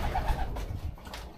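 Racing pigeon stock hens coo softly in a loft, a low murmuring burble close by under faint background noise.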